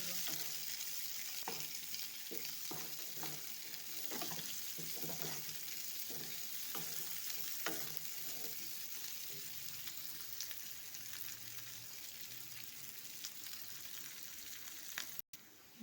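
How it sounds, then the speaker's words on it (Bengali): Garlic fries in a pan, a quiet, steady sizzle with a run of soft rhythmic stirring taps early on, then settling into an even crackle with no talking. "দিয়ে দেবো আমি রসুন, এগুলো সুন্দর করে ভেজে নেব।"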